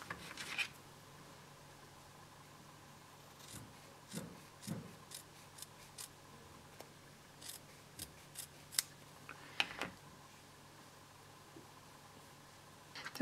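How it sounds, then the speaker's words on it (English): Scissors snip through paper wrap while a Christmas gnome is being crafted, giving a run of short, crisp cuts spread across the clip, close and fairly quiet, with no talking. "And then I'm just going to take my scissors and cut down here."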